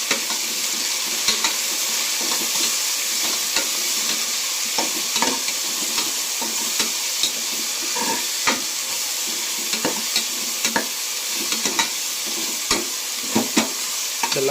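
Whole garam masala spices, mint and fresh herb leaves frying in hot oil as a tempering for a simple rice pulao, a steady close sizzle broken by frequent scraping stirs and clinks of a spoon against the pan, with no talking.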